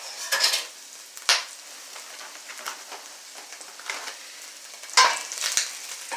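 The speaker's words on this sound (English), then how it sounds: "First, I'm putting in the mushrooms, because I just like to cook that down a little bit first before I add anything else." Mushrooms frying in oil in a pan for a stir fry, a soft steady sizzle with occasional scrapes and clinks from stirring, close and moderately loud.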